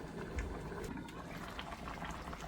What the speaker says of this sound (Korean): 뚜껑을 덮고 불은 이제 중불 정도로 줄이세요. 바글바글 끓을 정도로.